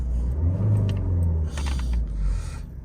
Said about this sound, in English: Give it a quick rev for you though, so you can hear the engine.